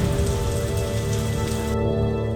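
Heavy rain pours steadily in a rural Philippine setting during the wet season, a dense continuous hiss of drops drumming on surfaces, loud and unbroken with no voices.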